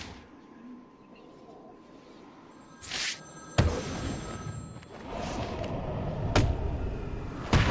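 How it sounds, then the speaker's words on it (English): Telephone ringing inside Batman: Arkham City, heard as several bursts of bright ringing over a low game ambience with sharp thuds and impacts in between. "Oh, there's a phone ringing."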